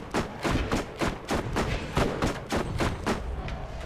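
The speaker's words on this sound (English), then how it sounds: "Should probably use my incendiary. Get some fire damage going while I'm reloading." An incendiary gun in the video game Borderlands fires steadily, a rapid, even run of loud close shots with punchy thumps, continuing without pause.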